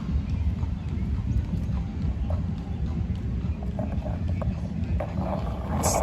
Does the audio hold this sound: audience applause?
no